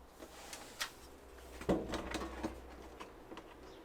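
Quiet clunks and a sliding rattle from a drawer on its slide in a converted camper van, a few soft knocks spread out with one firmer bump in the middle, faint and close.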